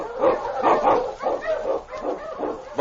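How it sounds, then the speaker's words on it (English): Eskimo husky sled dogs barking and yipping in a radio drama of the Yukon trail through storm and snow, a dense, steady chorus of overlapping barks with no clear pauses. "The Wonder Dog King, swiftest and strongest of Eskimo lead dogs"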